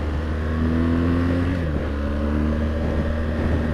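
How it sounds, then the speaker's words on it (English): A 2016 BMW R1200GS motorcycle engine drones loudly, its pitch stepping down through 5th, 4th and 3rd gear with a quick blip midway as the gear shift assist matches revs on the downshift. "The bike matches the revs flawlessly coming down"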